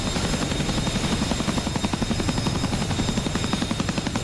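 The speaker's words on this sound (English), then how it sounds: "So the Chinook is definitely a different beast." A CH-47 Chinook helicopter in the DCS flight simulator game beats steadily with a loud, dense, rhythmic rotor chop over a constant turbine whine, heard alone without talk.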